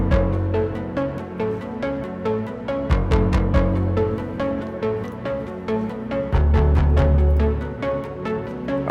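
Instrumental song verse without drums, built on a dirty, subby bass with muted pianos doubling it, playing a steady loud arrangement with sustained low notes and repeated plucky piano hits.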